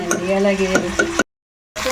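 Tempering spices sizzle and crackle in hot oil in a pan, with a few sharp stirring clacks, then a brief cut to silence before the frying resumes.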